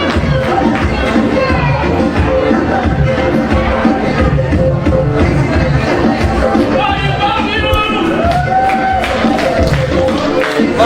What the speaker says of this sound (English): Cruz soaking in the applause from the fans.